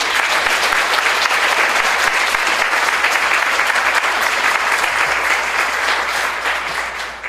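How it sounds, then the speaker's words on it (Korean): A church congregation at a thanksgiving service claps in sustained, dense applause that stays strong for several seconds before tapering slightly at the end. "여러분 우리 한국 경례하는 의미로 박수를 보내주십시오."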